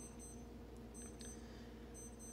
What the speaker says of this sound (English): You're hearing my watch in the background beeping because it's midnight.